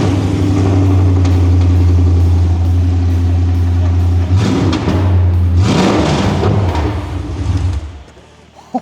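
A Mercedes E55 AMG V8 with a snapped exhaust runs on open headers, idling with a loud, deep, throbbing rumble, then blipping and revving in rough bursts before cutting off near the end, with voices speaking briefly over it.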